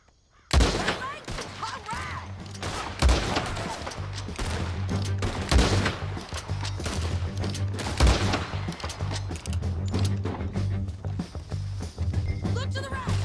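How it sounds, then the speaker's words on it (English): A gunfight in Red Dead Redemption 2: a dense, loud fusillade of rapid overlapping shots cracks through the whole stretch, with hooves clopping and voices talking underneath. "Let's just start shooting"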